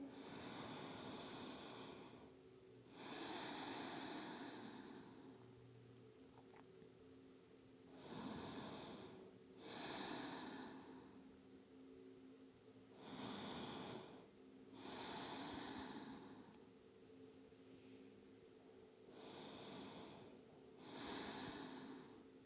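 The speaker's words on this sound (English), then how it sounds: "Let's take 5 more breaths here." Slow, deep breaths taken during a yoga hip stretch, with about six long inhale-exhale swells evenly spaced and close to the listener, each one audibly hissing through the nose and mouth, with no talking.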